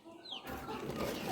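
Chickens cluck around a coop, a soft continuous muddle of clucking that swells after a brief quieter start, with no talk.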